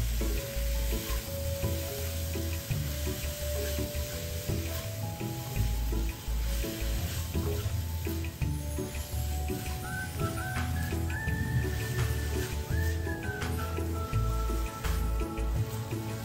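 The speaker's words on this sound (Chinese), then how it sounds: "再倒入炒香的食材内，一起拌炒匀。" Glutinous rice balls (tang yuan) are stir-fried with fragrant fried ingredients in a wok, giving a steady crackling sizzle overlaid with frequent scraping and tossing strokes.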